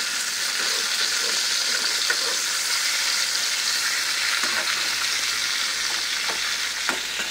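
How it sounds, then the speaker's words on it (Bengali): Small broken pieces of fish fry in a pan of hot oil, a dense, steady sizzle close up with light crackling and a few soft clinks of stirring, no talking. "আর এদিকে দেখো এই ভাঙা মাছ, ছোটো মাছগুলো এর মধ্যে ভাজবো।"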